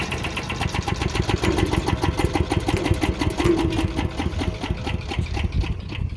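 A roughly $100 chipper shredder engine runs steadily at close range, a loud continuous mechanical drone with fast rhythmic pulsing and no talking.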